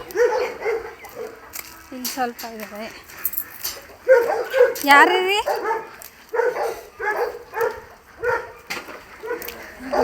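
A dog yips and whimpers in short, high-pitched bursts while a person talks nearby.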